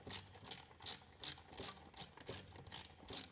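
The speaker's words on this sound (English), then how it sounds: "we're going to take our 3/8 socket and we're going to remove these 3 bolts on the driver's side of the shifter" A 3/8 socket ratchet backs out shifter bolts on an MT-82 transmission, making a quiet, close series of about eight evenly spaced clicking strokes.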